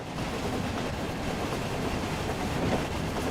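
A locomotive in the Thomas and Friends: Wonders of Sodor video game runs steadily along the rails toward a shunting yard, a continuous rumbling roll with faint rhythmic clatter, close and even in level, with no talk.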